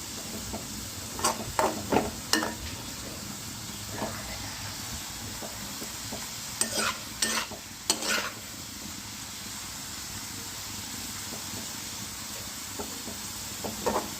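Potato lachha stir-fried in a pan for a Navratri fasting snack gives a soft steady sizzle, broken by sharp utensil scrapes and clinks in scattered bursts.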